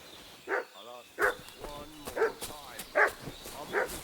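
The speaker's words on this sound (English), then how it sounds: "What's that dog making such a fuss about?" A dog in Kingdom Come: Deliverance II barks repeatedly in evenly spaced, sharp woofs, fairly close and loud, over a quiet game ambience.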